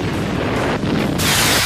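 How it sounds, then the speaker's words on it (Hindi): Rocket explosions from a barrage striking Kiryat Shmona, Israel, heard as a loud, continuous rumbling roar with a harsh blast surge near the end, wind-buffeted and dense. "एक घंटे के भीतर 65 रॉकेट धमाके।"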